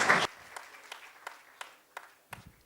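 Applause for poet Praveen at a Hindi kavi sammelan: a loud burst opens, then fades to scattered, evenly spaced single claps that ring out faintly one by one.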